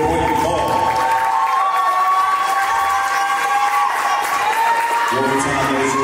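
Crowd at a women's college basketball game between Point University and Brewton-Parker College cheers and applauds for a player reaching 1,000 career points, a loud, steady roar of voices and clapping lasting throughout with shouts rising above it.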